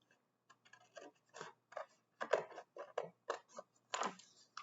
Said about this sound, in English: I'm going to get my scissors again, and I'm going to cut out the pants.